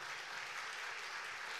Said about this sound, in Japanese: どうぞファンの皆様、大きな拍手をお願いいたします